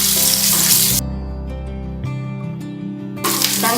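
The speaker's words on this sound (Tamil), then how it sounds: "கொஞ்சம் நல்லா வதக்கிடுங்க." Onions, chillies and dal sauté in a pan for Chettinad kadamba chutney, a loud close hiss that drops sharply after a second to a quieter sizzle with faint stirring scrapes, then swells loud again near the end.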